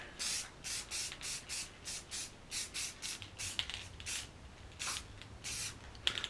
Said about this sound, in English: Paint is super cold, but it'll be alright. Just give it a quick coat here.